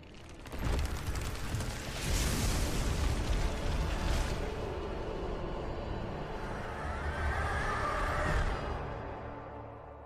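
Deep booming explosions in a cutscene from the video game Tomb Raider: Anniversary, several heavy blasts rumbling one after another with a lingering roar between them and no talk.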